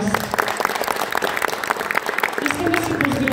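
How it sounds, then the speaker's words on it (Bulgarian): Crowd at a Bulgarian YouTube awards ceremony in an arena claps and cheers, busy uneven applause mixed with voices and shouts, with a sustained tone entering partway through. "Аплодисменти за всички вас!"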